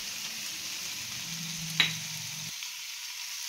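Carrot rice with grated coconut sizzling in a pan, a soft steady hiss with one brief sharp clink of a utensil, then the lower rumble drops away while the faint sizzle continues.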